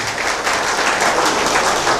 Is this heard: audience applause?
yes